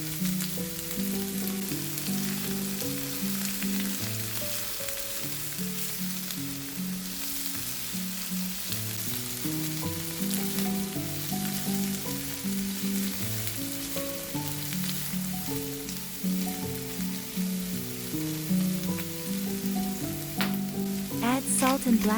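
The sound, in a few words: meat frying and sizzling in a pan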